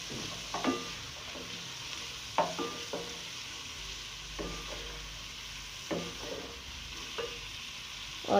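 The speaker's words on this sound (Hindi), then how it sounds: "और इसे भी बहुत अच्छी तरह से मिक्स कर दें इसमें।" Vegetables with capsicum are stir-fried in a pan for Chinese fried rice, with a soft continuous sizzle and occasional scraping clacks of the spatula at irregular intervals.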